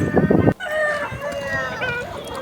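A black rooster at a rooster market crows once, loud and close, in a long drawn-out call that follows a brief burst of voices and background commotion.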